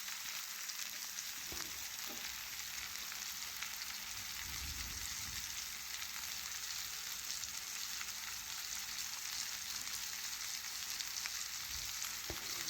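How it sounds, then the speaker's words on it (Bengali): Pan of fried onions and vegetables with cumin paste, turmeric, chili and coriander powders being stirred, giving a continuous faint sizzle with occasional soft scraping and stirring knocks. "এখন ভালোভাবে সমস্ত মশলা মিশিয়ে নিচ্ছি এভাবে নাড়াচাড়া করে"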